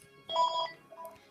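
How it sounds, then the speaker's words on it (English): A telephone rings indoors at home, giving a short electronic ringtone burst of clear bright tones. A softer second burst follows, with no talking. "I'll get the phone."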